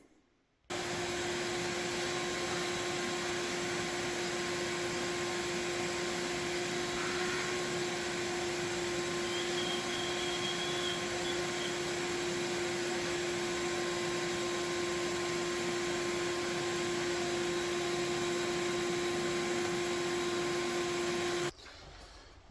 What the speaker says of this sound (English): I'm going to vacuum, suck all the grindings off there